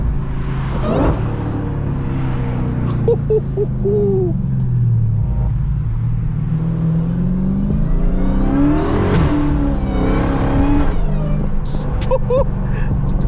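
A new Dodge sports car engine revs and drops through downshifts from inside the cabin, loud and droning, with the pitch sweeping up and down under occasional talk.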